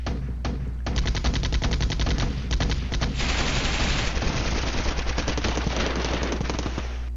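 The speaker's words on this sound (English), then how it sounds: "Lots of shooting, not much explosions." Dense, continuous automatic gunfire with rapid bursts and overlapping shots from a war strategy game, loud and sustained throughout with no talk.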